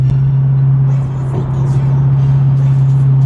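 A Pontiac G8 GT (Holden Commodore VE) driving on the road after a swap to Camaro 3.27 rear gears, a loud, steady low drone of engine and drivetrain from inside the cabin with constant road rumble.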